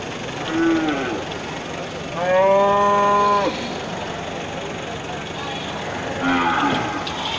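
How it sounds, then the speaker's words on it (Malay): Aceh cattle mooing during unloading from a truck, several loud nearby moos with long drawn-out calls, over a steady low engine idle. "proses bongkar sapi ya, baru masuk"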